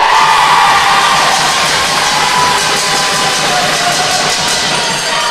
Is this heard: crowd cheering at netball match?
yes